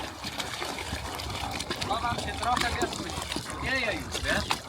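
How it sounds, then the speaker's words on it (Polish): The yacht Relax motors in toward a slipway at Solina under low water, with water sloshing and trickling against the hull while someone talks over it throughout. "Podpływa nasz Wibiacht Relax."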